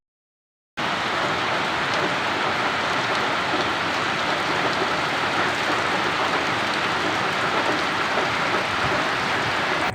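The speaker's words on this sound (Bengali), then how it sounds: "তো জোরে জোরে বৃষ্টি হচ্ছে" Heavy rain pours steadily outside a window, a dense, continuous hiss from start to finish after a brief silent opening, loud and close with no voices.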